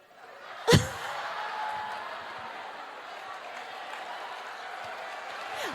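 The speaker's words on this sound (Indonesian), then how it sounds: "Terima kasih untuk tepuk tangannya." An audience applauds at a church sermon, with a sharp clap-like burst near the start followed by a steady, moderately loud wash of clapping that carries on to the end.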